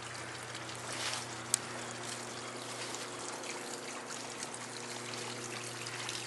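Small garden pond waterfall with a partly clogged spillway, trickling and splashing in a steady, continuous wash of water, with a low constant hum beneath.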